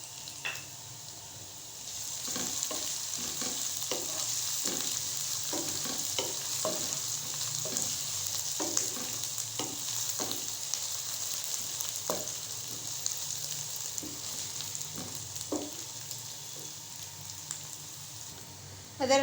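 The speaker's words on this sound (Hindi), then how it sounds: "अदरक लहसुन को पकाते हुए 1 मिनट हो चुका है।" Onions, garlic and ginger frying in a pan for an aloo gobhi: a steady, soft sizzle runs throughout, broken by repeated scraping and clinking from a spoon stirring at irregular intervals.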